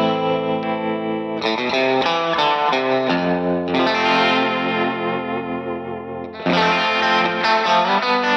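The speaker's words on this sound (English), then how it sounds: "Let's add a little bit of reverb from the amp here." Sustained electric guitar chords ring out with heavy amp reverb and a washy, effected tone, changing chords a few times.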